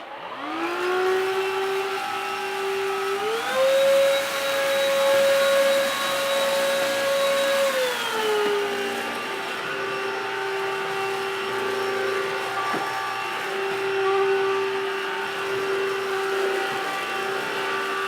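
A Black and Decker 2-in-1 smart tech vacuum cleaner runs with a loud, steady motor whine that climbs in pitch, holds, then drops back and settles into a constant hum, with no one speaking.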